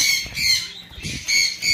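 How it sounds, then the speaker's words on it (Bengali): Rubino red opaline turquoisine parrots, a breeding pair in an aviary, give sharp, high squawks in a few quick bursts, close and fairly loud. "এখানে রয়েছে এক পেয়ার রুবিনো রেড অফলাইন টার্কোজিং, এটা বাচ্চা করা পাখি"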